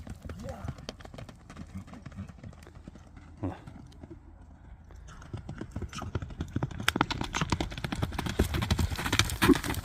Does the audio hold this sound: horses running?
yes